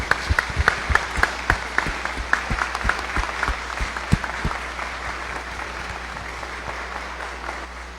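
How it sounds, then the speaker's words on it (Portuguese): Congregation applauding during a festival Mass for a parish's silver jubilee feast, sharp distinct claps at first that soon blend into steady, sustained clapping filling the church for the rest of the stretch. "Eu pediria uma grande salva de palmas a todos vocês que formam essa comunidade."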